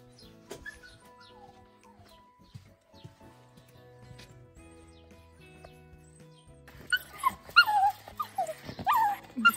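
Neighbors' friendly dogs whimper and whine in the village morning, faint at first, then a burst of close, high whining cries in the last few seconds.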